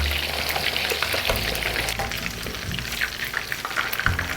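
Homemade Sunday meatballs fry and brown in a hot pan with a steady, dense sizzle and crackle, close and loud throughout, with a few faint stirring knocks.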